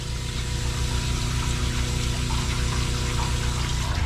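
Water runs steadily from a tap into a tub being filled for bathing a poodle, a constant rushing gush with a low pump-like hum underneath and no talk.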